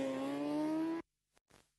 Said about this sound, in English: So I hear another engine.